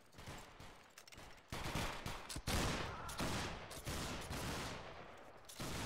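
Line of muskets fires a volley on command in the video game Battle Grounds 3 during a line battle match. Several loud, ragged cracks overlap into a rolling burst that echoes on for a few seconds.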